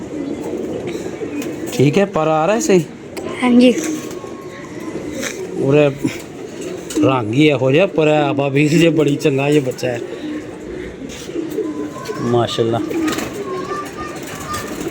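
Pigeons coo softly in a keeper's flock at a pigeon-racing club loft, their low rolling calls surfacing intermittently beneath near, steady conversation between several men.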